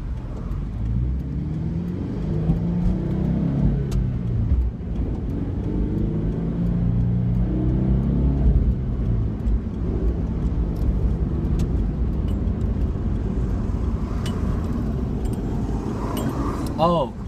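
2013 Scion FR-S on the road, engine note rising and falling through acceleration with shifting pitch, close inside the cabin, while a person talks over it and small clinks appear near the end.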